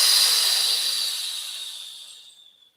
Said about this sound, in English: on a long exhale, drop your elbows and your shoulders towards the floor and hold